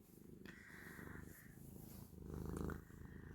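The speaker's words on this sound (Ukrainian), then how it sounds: "Мурликаєш ти." A domestic cat purrs close and soft, a low rhythmic rumble that swells toward the end, with a brief higher tonal trill early on and no talking.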